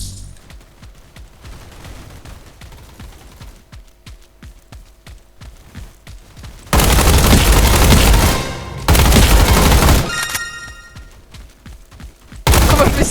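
Bursts of rapid automatic gunfire in a Roblox combat arena game, loud dense volleys around a few seconds apart with quieter footsteps and clatter between them, no talk.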